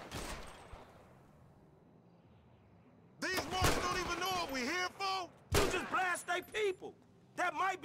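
Gunfire headshots in GTA 5: a single loud shot at the start, then a few more sharp bursts later on, mostly under someone talking.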